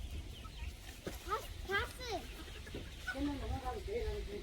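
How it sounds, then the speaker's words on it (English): Chickens clucking at a family campsite, a series of short close clucks and squawks scattered across the clip, under background noise and people talking. "Kiss and catch chicken."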